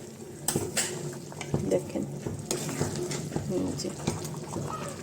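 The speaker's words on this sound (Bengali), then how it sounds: "এখানে হচ্ছে খাসির মাংস রান্না হইতেছে" Goat meat cooks in a pot, bubbling and sizzling under irregular stirring with clinks of a utensil against the metal, close by, with a voice faintly present in the background.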